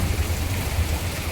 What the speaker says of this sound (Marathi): ह्या वर्षी तो सगळ्यात मोठा पाऊस तुम्ही बघू शकताच